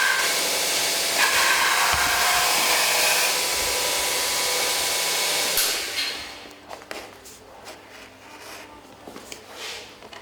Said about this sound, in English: we've got a small grinder on the back of this axe grinder